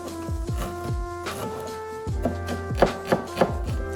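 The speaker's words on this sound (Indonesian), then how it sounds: "pertama-tama gue mau iris bawang merah kayak gini" Knife slicing shallots (five bulbs) on a cutting board while cooking black fried rice, with a steady series of sharp chopping taps, some louder near the end, over a faint background hum.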